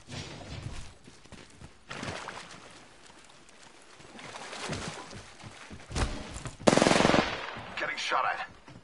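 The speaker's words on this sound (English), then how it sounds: "Getting shot at." Gunfire aimed at the player in a first-person shooter, scattered bursts of rapid shots over about nine seconds, some near and loud, others fainter, with occasional voice underneath.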